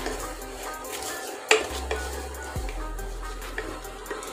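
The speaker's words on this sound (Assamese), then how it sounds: "এইখিনি খুব ধুনীয়াকৈ মই লৰাই ল'লোঁ" Moong dal halwa is stirred in a pan, with a spoon clanking against metal, scraping sounds and a faint sizzle underneath, close and fairly loud, with no voices.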